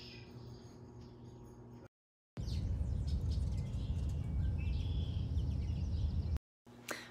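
Birds at a backyard feeder, including a white-breasted nuthatch, give short chirps and calls over steady outdoor ambience, with brief gaps of silence.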